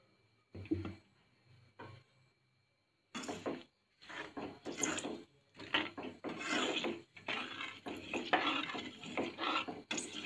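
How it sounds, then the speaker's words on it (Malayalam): A spoon scrapes and knocks against a metal pan of coconut oil being heated and stirred on a stove, with scattered taps at first, then a busy run of clinks and scrapes, close and moderately loud. "ഇത് ഇളക്കി കൊടുക്കേണ്ടതാണ്"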